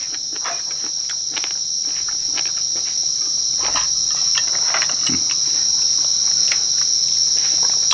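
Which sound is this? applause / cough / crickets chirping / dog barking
crickets chirping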